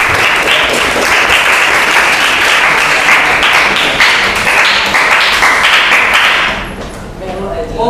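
Loud, close applause from a school class audience after a ninth-grade student presentation. It comes as a dense stream of clapping for most of its length, then drops off, with some thumps and voices near the end.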